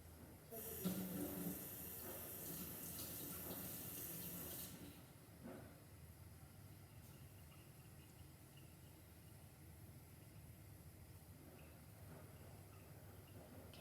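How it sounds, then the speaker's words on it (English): Kitchen tap water runs while a spoon is washed during pancake making: a steady splashing rush for about four seconds, then it stops, leaving only faint room noise. "I'm just going to wash this spoon."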